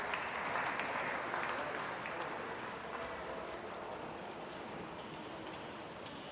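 Spectators at a high school boys' swim meet, Jefferson versus Kennedy, applaud a swimmer on his final length of the 500 freestyle. The clapping is steady and moderately distant, with pool-deck echo, and eases off slightly toward the end.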